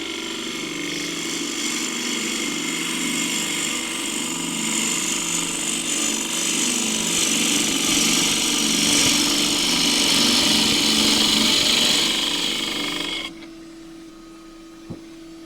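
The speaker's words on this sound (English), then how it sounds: "I'm now up to 1650 using the deep-throated, 3/8 deep-throated bowl gouge." A wood lathe spins at about 1650 rpm while a 3/8 deep-throated bowl gouge cuts green Osage orange, a loud continuous whining drone with a rough cutting rasp that swells, then cuts off near the end.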